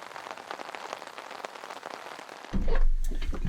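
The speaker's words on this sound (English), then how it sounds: "it is starting to rain." Rain begins falling at an overlanding campsite beside a Land Rover Defender, a dense, close patter of drops that gives way to a louder, low rumbling rush near the end.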